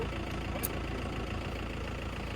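A motorbike engine idling during a road trip in Sikkim, heard as a steady, even low rumble close by that holds a constant level, with no speech.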